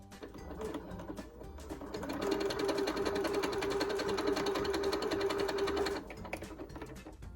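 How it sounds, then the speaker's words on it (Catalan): A sewing machine stitches fabric for a skirt, its needle running in a fast, steady mechanical whir that builds up, holds for several seconds at full speed and then stops, with lighter handling noise before and after. "Això ara se pot cosir."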